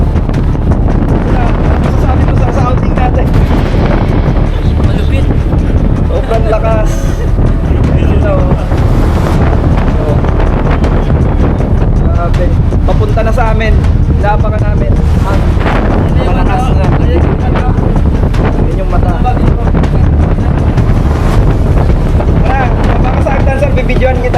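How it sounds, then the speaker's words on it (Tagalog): Strong wind on the open sea off Balabac, Palawan, buffets the microphone in a constant loud roar, with water and boat noise beneath and voices faintly mixed in. "Lakas ng hangin."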